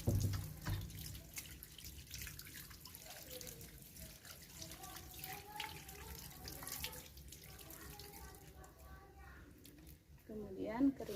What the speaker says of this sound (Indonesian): Kemudian bilas dengan air yang mengalir sampai bersih.